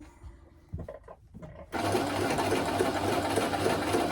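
A sewing machine stitches teddy bear fabric, starting after a few quiet handling taps and then running in a fast, steady, close motor whir with a rapid needle rhythm to the end; no talking.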